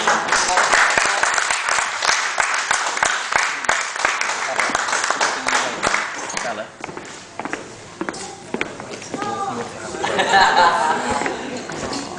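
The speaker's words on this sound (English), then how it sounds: "Give them a clap." A crowd at a wedding applauds with rapid, scattered claps that fade and pick up again, mixed with chatter and voices in a lively room.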